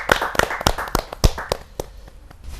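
Scattered audience clapping greeting a comic poet at a televised Hindi poetry gathering, a few loud sharp claps tapering off over a couple of seconds.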